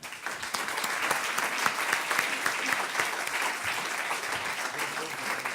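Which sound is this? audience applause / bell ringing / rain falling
audience applause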